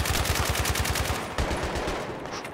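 Rapid automatic gunfire in the video game Battlefield 3, a fast steady burst of shots that fades and thins toward the end, heard alone without talk.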